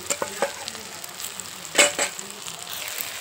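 Chopped vegetables drop into onions frying in a clay pot for soybean pulao, setting off a steady soft sizzle with light scraping and clinking stirs and one sharper splash of frying near the middle.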